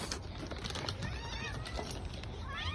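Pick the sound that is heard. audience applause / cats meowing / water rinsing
cats meowing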